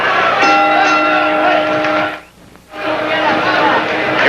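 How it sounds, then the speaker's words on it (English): A boxing bell rings to end round 1 of the Wilfredo Gomez vs. Juan Antonio Lopez super bantamweight world title fight at Lubriel Stadium in Bayamon, Puerto Rico. The sustained metallic ringing carries over loud crowd noise, with a commentator talking. "About 5 seconds, the bell ending round 1."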